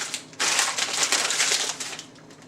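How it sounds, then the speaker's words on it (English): Water splashing and rushing into a wine glass during a rinse between Bordeaux tastings, a loud broadband wash that swells suddenly and then tapers, close to the listener and with no voices. "A little rinse."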